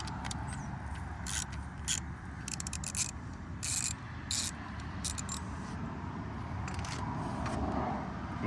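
Small 8mm bolts being loosened from the filter cover of a 2023 Gas Gas 700SM motorcycle, giving faint ratcheting clicks and metallic rubbing over a steady low background hum, with a few brief bright clicks spread through.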